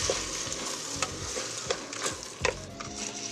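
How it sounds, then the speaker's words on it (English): Medium grain rice and diced tomato sizzle steadily in a pan while a spoon stirs through them, with a few sharper scrapes and clicks against the metal, close and moderately loud, with no talking. "we just keep stirring this now"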